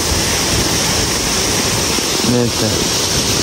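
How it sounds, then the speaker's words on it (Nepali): The Amile waterfall in Arghakhanchi, Nepal, roars in a steady, broadband rush that fills the scene, with a voice briefly audible near the middle. "जिल्लाको अमिलेमा पर्ने झरना हो एकदम छ है राम्रो छ"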